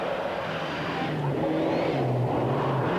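A Group N Mitsubishi rally car roars steadily on a Norwegian rally stage, its engine note shifting as it drives, loud and continuous with no talking.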